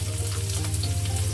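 Onions, garlic and ginger frying in a pan for a Filipino pork and eggplant stir-fry, a steady close crackling sizzle with an even low hum beneath and no voices.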